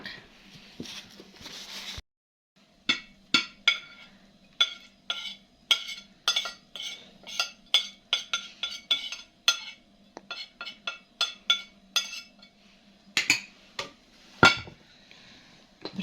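A utensil repeatedly clinks against a bowl while eggs are beaten with garlic, a steady run of quick taps after a short pause, close and clear with no talking.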